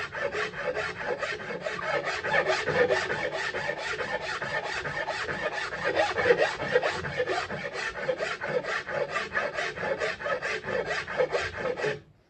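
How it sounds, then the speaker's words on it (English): A Nicholson file smooths rasp marks on a wooden bowl rim, making rapid, even back-and-forth scraping strokes that continue steadily for about twelve seconds before stopping abruptly. "Here's another Nicholson, this is a file, not nearly as coarse. Come back to my starting point. And this will remove the marks from the rasp."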